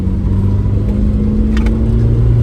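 A Dodge Omni, an older car brought back from abandonment, drones loudly and close up under hard acceleration, with a steady, throaty engine note holding through the whole stretch.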